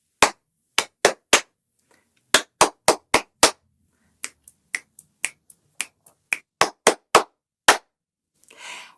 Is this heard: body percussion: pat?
yes